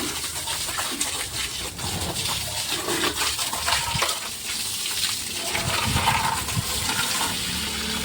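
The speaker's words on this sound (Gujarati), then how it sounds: "આ રીતે આપણી ગાડી ધોવાય છે હવે." Water from a motor pump sprays steadily across a new car being washed at home, a continuous loud hissing gush with shifting intensity, up close and without talk.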